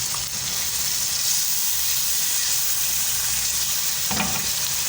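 A cup of vinegar hits a hot pan while making spicy buffalo sauce for chicken wings, giving a loud continuous sizzle and hiss with a brief clatter near the end.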